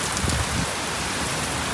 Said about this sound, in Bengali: মা ঘরের মধ্যে বৃষ্টি চলে আসছে